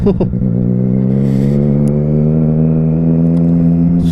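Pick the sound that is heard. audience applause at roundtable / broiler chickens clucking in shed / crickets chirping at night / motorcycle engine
motorcycle engine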